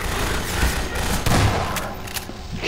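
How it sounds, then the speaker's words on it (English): Sentry turrets in the video game Half-Life 2 fire a dense, continuous burst of rapid gunfire, loud and crackling for a few seconds. "Alright, turrets are set up."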